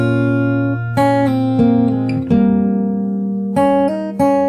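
Fingerstyle acoustic guitar plays the opening of a song, melody picked over sustained chords, with several clear chord changes and ringing harmonics, close and steady with no talk.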